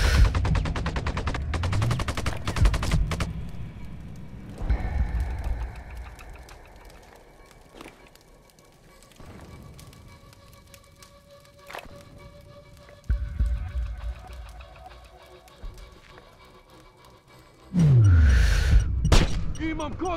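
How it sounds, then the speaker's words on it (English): Gunfire rattles in the Sniper Ghost Warrior video game set in Sarajevo: loud rapid bursts open the scene, then sparser shots and booms over a rumbling background, with faint voices in the mix and a heavy burst near the end. "Open fire."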